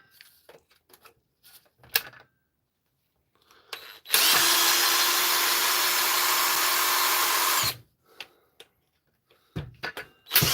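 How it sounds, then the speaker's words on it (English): A drill runs in one steady, loud burst of about three and a half seconds while a Dewalt tool is being taken apart, bracketed by quieter clicks and handling noises before and after. "I'm going to use this suboptimal drill to take her apart."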